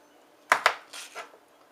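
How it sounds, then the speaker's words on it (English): A kitchen knife chops onion and garlic on a board for kosher dill pickles, giving two sharp close knocks followed by a few softer cuts, with no talk. "I'm going to go ahead and chop up the onion and the garlic"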